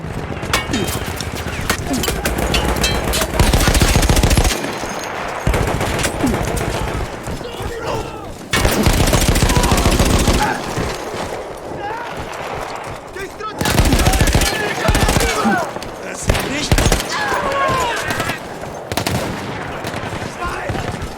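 A mounted machine gun fires in Battlefield 1, with repeated rapid bursts of loud automatic gunfire between short pauses, mixed with other battle noise and a voice speaking over it.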